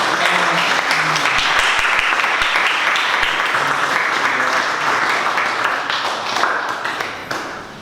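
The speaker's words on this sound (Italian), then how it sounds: "Un applauso al dottor Zanini." An audience applauds Dr. Sergio Zanini at a book presentation, with dense, steady clapping that fills the room throughout, a few sharper claps standing out near the front before it thins slightly at the end.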